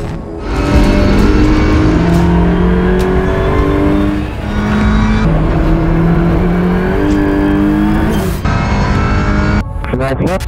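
Touring race cars on the last lap at the FIA Motorsport Games scream past at close range, engines revving loudly with rising and falling pitch and gear shifts, a commentator talking over the continuous roar.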